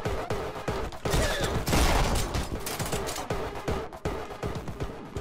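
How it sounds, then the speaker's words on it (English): A grenade launcher fires again and again in the action game Anger Foot, a dense, loud barrage of rapid blasts and booms with little pause between them. "That's a grenade launcher."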